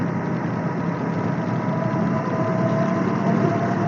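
A motorcycle engine runs steadily at cruising speed, a dense continuous drone with a constant broadband rush that stays even and loud throughout, no voices over it.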